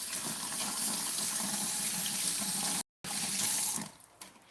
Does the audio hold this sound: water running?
yes